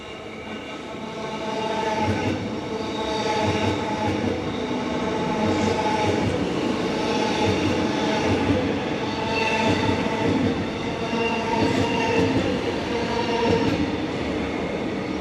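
A suburban electric train passing Nunawading station in Melbourne, a steady rumbling roar with rhythmic wheel clatter over rail joints and a faint high squeal, sustained throughout and fairly close.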